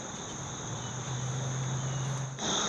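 Steady insect buzzing of bees around a big nest hums close by, a continuous droning tone with a higher whine above, holding unbroken and loud throughout.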